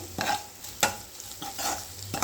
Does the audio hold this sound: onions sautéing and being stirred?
yes